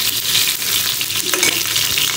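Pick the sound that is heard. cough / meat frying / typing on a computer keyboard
meat frying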